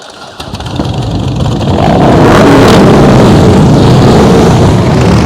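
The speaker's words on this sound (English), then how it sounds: "Preloaders, start your engines" Motorcycle engines at a slow-speed riding practice session start up and build into a loud, close, sustained rumble of several idling and revving engines.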